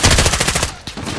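Rapid machine gun fire from a Call of Duty: Modern Warfare (2019) battlefield, a loud, dense run of evenly spaced shots that thins out near the end.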